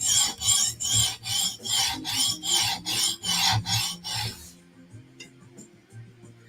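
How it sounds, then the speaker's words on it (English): A knife scraped in steady strokes across coarse 150-grit Halfstone Premium CBN stones, about ten rhythmic rasping passes close up, then a quieter pause with faint handling noise. "Now we're going to sharpen. Starting with 150 grit Halfstone Premium CBN stones."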